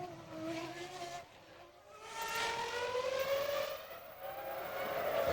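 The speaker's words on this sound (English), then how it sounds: "The car ratcheting on traction control." A 2001 BAR Honda Formula 1 car at Monaco Grand Prix practice, near the Rascasse corner, ratchets on traction control, its high engine note rising and stuttering in loud, repeated sweeping surges as it accelerates close by.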